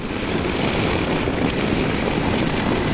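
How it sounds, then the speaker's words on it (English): A new motorcycle accelerates in a fourth-gear roll-on, from about 85 to 100 km/h, with a loud, steady engine drone and wind rush that continue throughout. "let's see how she does in a roll on in fourth"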